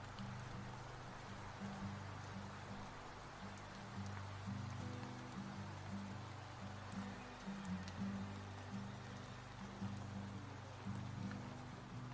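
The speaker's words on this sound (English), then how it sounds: "I opened every window in my apartment, and the rain started falling." Steady rain falling outside open apartment windows, a soft continuous wash of drops heard from indoors with a low hum beneath, no voices.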